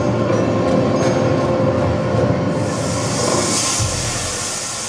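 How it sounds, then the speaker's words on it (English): Train slowing to a stop at a station, used in a show soundtrack: a loud, steady rumbling rail roar with hissing that eases and changes character near the end. "we have a decel where the train actually comes to a station and stops"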